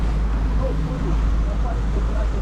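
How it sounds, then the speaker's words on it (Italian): A motorboat engine running steadily on a river, a constant low rumble with wind buffeting the microphone, close and loud without pause. "eccomi qui alla guida di un motoscafo"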